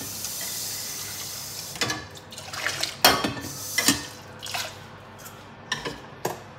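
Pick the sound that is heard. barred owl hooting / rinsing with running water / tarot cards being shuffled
rinsing with running water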